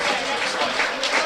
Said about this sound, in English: Mitchell applauds the Forest Green fans, as does Moore.